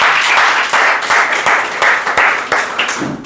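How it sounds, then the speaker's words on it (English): A school audience applauds after a student's presentation, loud and close, with dense clapping that swells and dips in waves over about three seconds. "A lot of big round of applause for Mr."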